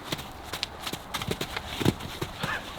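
Horses' hooves clip-clop in an irregular, uneven run of thuds during playtime, moderately close, with a brief whinny-like cry near the end.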